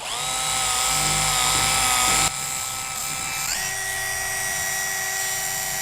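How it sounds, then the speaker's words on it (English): A car polisher buffs bird dropping damage out of car paint, a loud steady high-pitched motor whine that drops briefly partway through, then rises and settles at a higher speed. "Still keeping the polisher moving though."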